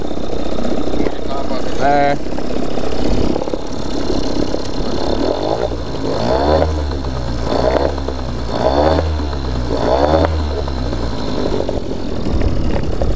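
A Toyama outboard boat motor on a fishing kayak runs close to flooding, sputtering and idling unevenly before settling into a pulsing, rhythmic putter near the microphone. Someone speaks over it.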